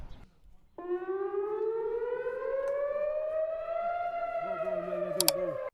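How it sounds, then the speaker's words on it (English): A civil defense air raid siren in Israel starts abruptly and winds up into a loud, rising wail that holds steady, heard alone and fairly close, with a brief click near the end. "this video includes the sound of a siren"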